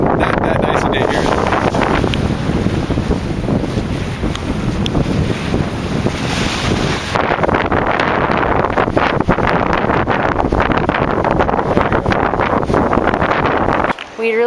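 Strong wind at Morro Bay on the California coast buffets the microphone, producing loud, continuous roaring rumble that barely lets up, with speech buried beneath it.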